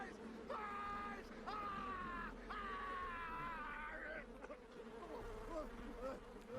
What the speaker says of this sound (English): Oh, no, not the bees! Not the bees!